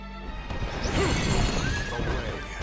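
A horse neighs nearby, a bright whinny rising and falling over a soft background of movement and hoof sounds.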